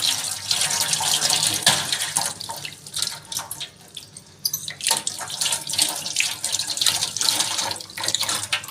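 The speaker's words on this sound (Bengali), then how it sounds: "হয়ে গেছে হাত ধোয়া" Hands being washed under a running tap: a steady, loud gush of water pouring into a sink, with small splashing shifts as the hands move through the stream and no voice over it.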